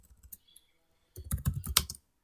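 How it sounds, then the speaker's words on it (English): Fingers type on a computer keyboard, a few isolated light clicks followed by a quick close burst of keystrokes lasting under a second, with no talking. "So type here OWNL"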